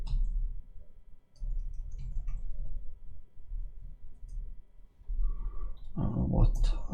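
Light clicks of a computer keyboard being typed on while TypeScript code is written, sparse and faint taps over a low background hum, with a brief voice near the end.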